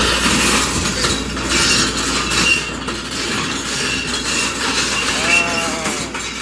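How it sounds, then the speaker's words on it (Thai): Track chain on a Kobelco 200-9 excavator working in the rainy season, a steady metallic clanking and rattling over a continuous engine rumble, close and loud, with a brief squeal near the end. "ความดังโซ่"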